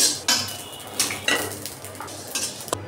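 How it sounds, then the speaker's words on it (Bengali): Dry red chillies and panch phoron spices are fried in a pan for a pickle: a spatula scrapes and clinks against the metal in short bursts over a faint background sizzle. "শুকনো মরিচ পাঁচফোড়ন একসাথে ভেজে নিলাম।"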